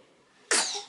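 A baby gives one quick, sharp sneeze, close and alone after a moment of quiet.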